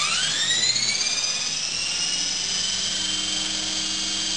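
A Honey Bee King V2 RC helicopter spins up, its rotor and motor producing a loud, close, high-pitched whine that rises in pitch and then holds steady with no talking.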